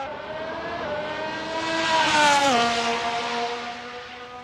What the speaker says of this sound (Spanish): os dejo un poquito con el sonido ambiente de este coche, el sonido del motor